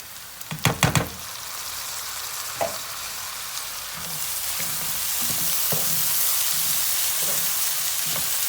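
Rice is poured into hot oil in a pot for pilaf. A few sharp knocks and clatters open the sound, then a steady sizzle builds and holds, with occasional soft stirring taps underneath.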